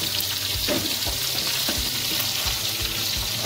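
Potato pieces frying in oil in a pan: a continuous close sizzle with occasional scraping and stirring knocks from a spatula, moderately quiet and with no talking.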